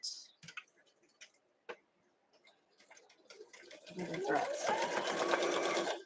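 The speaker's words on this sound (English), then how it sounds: "We're gonna sew down this side, 1/4 inch." A sewing machine runs a quarter-inch quilt seam with a quarter-inch presser foot, starting after scattered ticks and clicks and building into a steady, close mechanical whir that continues to the end.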